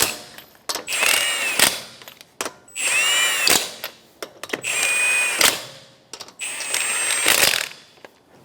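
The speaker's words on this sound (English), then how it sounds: "I'm going to tighten them down in a star pattern to make sure they are tightened down equally" A power tool runs in four short bursts, whirring and rattling as it tightens the lug nuts on a 2012-2016 Subaru Impreza, with sharp clicks and knocks between the runs.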